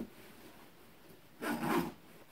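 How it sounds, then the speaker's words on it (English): A zipper on a Marmot Trestles 0 degree sleeping bag is drawn up, one short rasping pull, close and fairly quiet over a low room hiss. "Zips up really nice."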